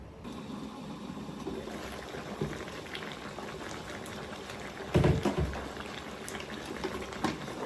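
A pot of chicken and plantain porridge bubbles on the stove, a steady soft boiling burble with a brief louder surge of bubbling midway, heard close and without speech.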